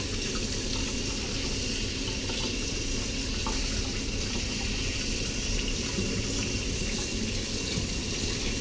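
Something rinsed under a running kitchen tap while making orange curd: a loud, continuous rush of water splashing into the sink, close by and unbroken throughout.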